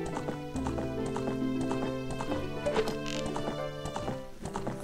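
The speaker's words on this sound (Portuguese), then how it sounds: "E ela vem, cavalgando lindamente no seu trote." Epona the horse trotting in The Legend of Zelda: Ocarina of Time, with steady, loud clip-clop hoofbeats running continuously over layered game music.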